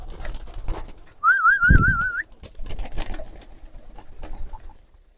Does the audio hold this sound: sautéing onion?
no